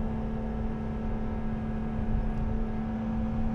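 Supercharged Lotus Emira engine pulling steadily under acceleration, a continuous loud drone with a strong steady tone and rumbling low end, heard from inside the car with no voices.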